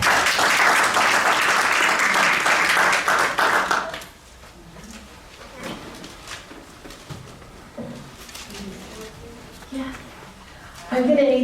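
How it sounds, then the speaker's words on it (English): An audience bursts into loud applause for about four seconds after a lecture introduction, then the clapping fades into quiet room noise with scattered taps and a speaker talking. "Give her a hand of applause."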